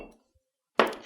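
An ice cube dropped into a rocks glass: a soft faint tap, a near-silent pause, then one bright, sharp clink that rings briefly and fades.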